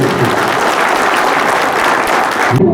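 Loud, dense applause from an audience honouring newly elected sarpanches, deputy sarpanches and ward members at a Gouda community felicitation in Jagtial district, steady for nearly three seconds before cutting off abruptly.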